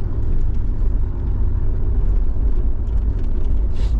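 A broken-down pickup truck's engine runs at low revs, giving a steady, loud, close low rumble that holds without a break and has no voices over it.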